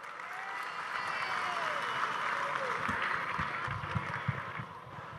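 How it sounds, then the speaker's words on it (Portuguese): A large crowd at the MST national gathering in Salvador applauds to welcome Agrarian Reform minister Paulo Teixeira, a steady, dense wash of clapping heard from a distance with some wind noise and faint voices mixed in. "Acolhermos com a salva de palmas."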